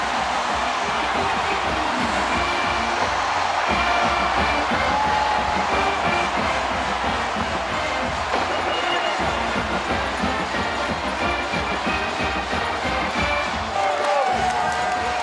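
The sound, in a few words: football crowd cheering after a touchdown catch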